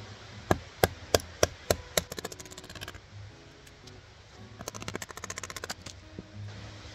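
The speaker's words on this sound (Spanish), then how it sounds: "pondríamos el cuchillo tal que así y con ayuda del mazo golpeamos para abrir la madera" A wooden mallet drives a knife into beech wood in a woodland setting: a quick series of about six sharp, close knocks, then a pause and a faster burst of lighter taps.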